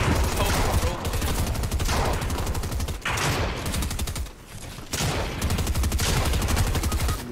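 Rapid SMG fire in a video game: long, dense automatic bursts with short pauses between, loud and close, repeating for several seconds.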